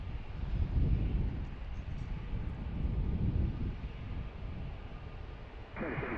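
A JetBlue airliner taxis after landing at Washington's DCA airport, a steady broadband engine roar with wind rumble rising and falling at moderate distance, no voices.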